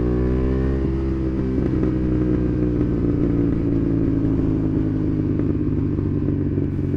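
A Honda CB750 Hornet's parallel-twin engine drones loud and close while riding, its steady throbbing note holding and shifting slightly in pitch for seven seconds, with no talking.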